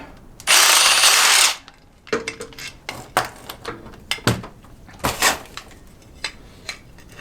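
A small impact wrench fastening castors onto a battery rack gives one loud buzzing burst of about a second, followed by close metallic clanks and clatter of parts and tools being handled.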